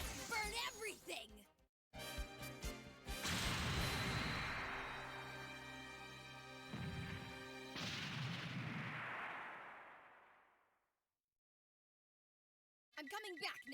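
A scattering beam cannon firing in the Mobile Suit Gundam: Gundam VS Zeta Gundam video game: loud sustained blasts and roaring bursts that fade into silence, with a brief voice before and after.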